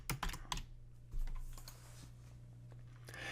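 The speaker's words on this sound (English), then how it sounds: "In this case, we'll call it SketchUp." Typing a folder name on a laptop computer keyboard, a quick burst of close, crisp key clicks that pauses and then resumes with a few scattered taps over a steady low hum.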